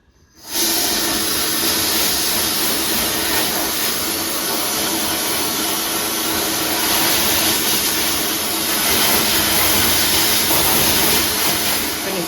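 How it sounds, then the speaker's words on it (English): Grit blaster cleaning a tractor sleeve hitch in a blasting cabinet, a loud steady hiss that begins abruptly and roars on without a break, with no voices over it. "Grit blasting now, and we're pretty happy with how the sleeve hitch has turned out."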